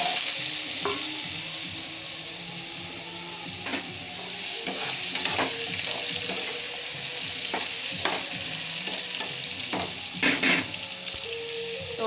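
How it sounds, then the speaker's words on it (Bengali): Potatoes frying in hot oil in a pan, part of a ridge gourd and potato dish with poppy seed, coconut and peanuts: a steady close sizzle throughout, with occasional clicks and scrapes of stirring. "এই যে তেলটা গরম হয়ে গেছে, এখন দিয়ে দেবো আলুটা অল্প একটু ভেজে নেব।"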